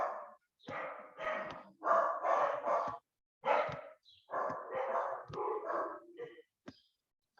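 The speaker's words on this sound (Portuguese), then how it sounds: "a cachorrada hoje está brava" Several dogs barking in sharp, irregular bursts, loud and fairly close, in a run of clustered barks with short gaps, heard over a maths lesson.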